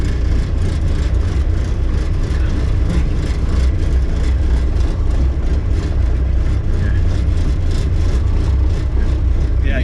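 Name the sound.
diesel Jeep TJ Wrangler engine driving off-road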